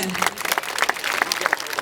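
Children and parents at a First Communion evangelization gathering in Brzesko applaud, a dense, loud, close patter of many hands clapping continuously with crowd noise and voices mixed in.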